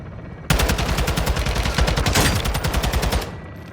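Rapid automatic gunfire in a first-person shooter video game, a long sustained burst as a full magazine is emptied, loud and close, with dense repeated shots and no talking.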